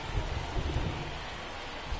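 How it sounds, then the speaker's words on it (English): Steady rain pouring down on a baseball stadium during a Cubs versus Rockies game in MLB The Show 24, a dense continuous hiss with low rumble and no commentary over it. "It feels like we might be headed towards a rain delay if the weather doesn't ease up, Chris."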